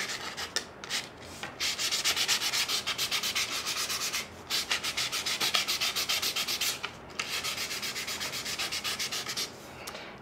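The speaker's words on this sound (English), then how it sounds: "you want to work the sandpaper, sanding the outside rim and the inside rim as well" Fine sandpaper rubs back and forth along the wooden rim of a carved apple basket, producing repeated rhythmic rasping strokes in bursts separated by brief pauses, close and clear without talk.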